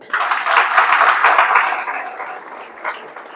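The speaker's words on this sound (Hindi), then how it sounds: "जो आपने पहन रखा है इन सबके लिए भी ताली बजा दो" Audience applause at a network marketing seminar in India, a dense wash of clapping that swells quickly, holds steady, then gradually thins out with a brief late surge.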